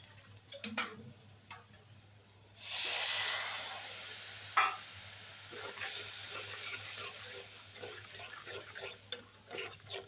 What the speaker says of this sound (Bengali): সাথে একটু পানি দিয়ে দেবো